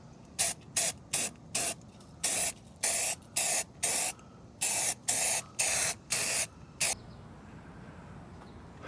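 Repeated short hissing bursts of spray paint on a Willys CJ3B jeep, around a dozen quick even pulses, close and loud, then the spraying stops, leaving quiet background.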